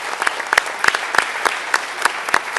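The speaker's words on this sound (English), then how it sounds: "Let's give a round of applause to our esteemed speakers." Audience at a business summit session in Antalya applauding the speakers, a dense steady clapping from a sizable crowd filling the room.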